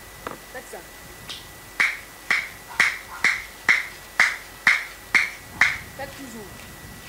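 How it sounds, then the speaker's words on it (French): Sharp hand claps from a worshipping congregation come in a steady run of about ten even beats, fairly close and loud, with a voice speaking briefly before and after. "Il faut joindre les deux mains pour acclamer."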